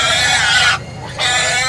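Pigs at the La Libertad livestock stockyard on a rainy day, a dense continuous din of grunting and squealing that fills the scene loudly, with a brief dip in the middle before the noise resumes.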